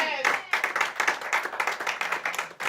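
A church congregation claps during an evening prayer vigil, a dense run of quick hand claps with voices mixed in, steady and close throughout.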